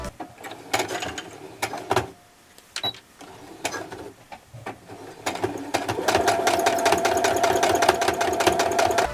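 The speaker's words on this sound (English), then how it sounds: "Or machine stitch like I have done here." A sewing machine machine-stitches a patch pocket over a hole in clothing, with a rapid, steady mechanical chatter that starts in bursts alongside handling knocks, then runs continuously and louder in the second half.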